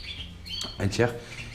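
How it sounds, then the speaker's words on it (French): A pet canary in a breeding room gives a brief burst of bright chirping, heard close and at moderate volume, with someone speaking nearby. "Voilà, c'est celui-là en fait qui chante. Il se met sur le bord, il chante."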